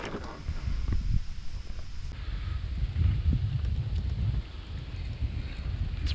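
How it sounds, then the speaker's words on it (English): Strong wind buffets the microphone with a constant low rumble and gusty roar, steady throughout with no voices. "It's really windy"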